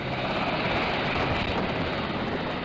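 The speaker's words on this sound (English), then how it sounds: "soon board an HS-60 Seahawk helicopter and leave Nimitz" An HS-60 Seahawk helicopter flies near the aircraft carrier Nimitz, making a dense, steady rotor and engine roar that holds constant without any voices.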